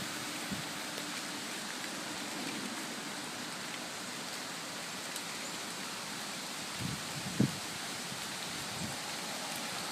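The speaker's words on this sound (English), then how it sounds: "The wind's blowing. You can't see, but it is raining." Rain falling on a windy morning beside a river in Lowell as Hurricane Sandy arrives, a soft, steady hiss that runs throughout at low level, with a few faint bumps and no voices.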